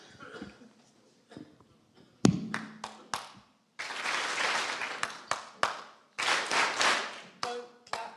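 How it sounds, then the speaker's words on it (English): Hands clapping out a call-and-response rhythm pattern at a youth gathering, sharp single claps and short bursts followed by longer flurries of group clapping, close and loud with brief pauses between phrases. "don't clap this one back"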